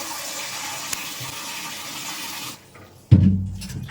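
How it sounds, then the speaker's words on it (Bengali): Fish being washed under running water: a steady, close gush from a tap that stops abruptly, then a brief loud splash and clatter at the sink, with no talking. "আমি একটুখানি মাছটা ধুয়ে নিই"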